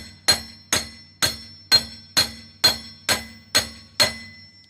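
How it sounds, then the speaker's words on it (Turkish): Nine evenly spaced metallic strikes of a hammer on the back of a lug wrench, seating it on a wheel nut of a Ford Tourneo Courier spare tire, each sharp clank ringing briefly before the next, close and alone. "şöyle bir çekiçle bir taşla arka tarafına vurarak"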